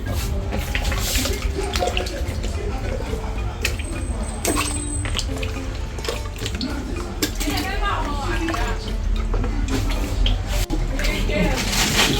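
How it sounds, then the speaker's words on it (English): Peppers and other vegetables washed in water in a Ghanaian home kitchen, with splashing, sloshing and clattering of bowls and dishes close by, while voices talk over it. "She's washing her peppers and all the other vegetables."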